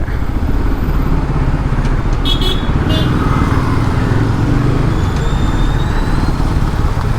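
Dense road traffic roars steadily around a Bajaj Pulsar N250 motorcycle in motion, with engine and wind noise loud throughout and a brief horn toot near the middle.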